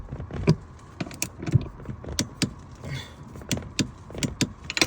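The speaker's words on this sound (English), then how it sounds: "Got my torque wrench set to about 27, 28 foot-pounds" Working inside a 5th-generation Toyota 4Runner, a torque wrench tightens a rear seat bolt, giving a series of sharp, close ratcheting clicks and metallic taps at an irregular rhythm, fairly quiet overall.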